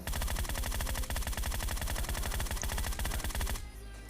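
Rapid automatic gunfire rattles in a fast, loud continuous burst in the mobile battle royale game PUBG Mobile, then cuts off abruptly into quieter game ambience.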